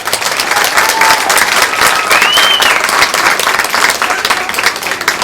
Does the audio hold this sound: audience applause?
yes